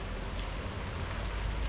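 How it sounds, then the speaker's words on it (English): Heavy rain pours down steadily during an Albanian winter, a dense, even hiss of drops close by with no voices. "Pouring down with rain again."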